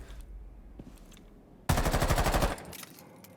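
Video game automatic weapon fire: one loud, rapid burst of evenly spaced shots lasting under a second, preceded and followed by quieter background game sounds.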